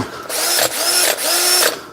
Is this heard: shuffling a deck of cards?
no